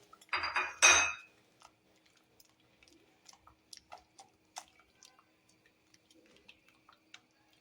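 A metal spoon clinks in a cup as cream is stirred into pink Kashmiri tea: one loud scraping burst near the start, then a run of light, scattered ticks and taps against the cup, close and quiet, with no talking.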